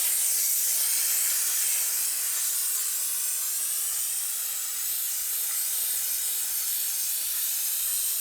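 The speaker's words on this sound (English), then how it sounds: "I use the steamer just to heat everything up" A handheld steamer blasts a car's door jambs in a Volkswagen Golf R interior detail, producing a constant loud, close hiss of steam that runs unbroken throughout.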